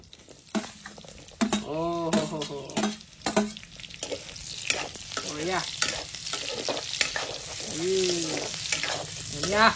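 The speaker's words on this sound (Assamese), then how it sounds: "গৰম কেৰাহীখনত মই যেনেকে মাংস টুকুৰা দিলো ধুনীয়াকে তেলখিনি এনেকে ওলাই গৈছে" Meat pieces fry in hot oil in a wok with loud, crackling sizzle and repeated scraping of a stirring spatula, close up, while a voice speaks briefly in between.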